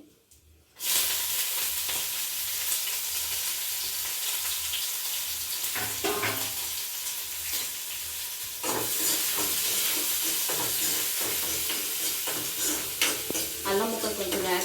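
Chopped green chillies and ginger fry in hot oil with a loud, continuous sizzle, as batter for uppudupindi is prepared, and scraping stirring noises come and go over the steady hiss.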